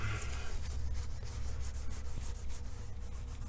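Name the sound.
rubbing tile backsplash with a soapy sponge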